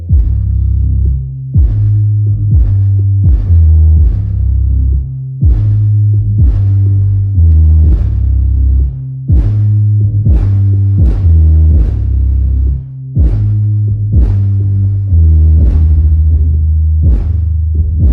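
Two 12-inch Skar SDR subwoofers pound out deep, loud bass in a garage, a heavy rhythmic throb of repeated low notes with sharp beat hits and rattling, continuous throughout with no talk.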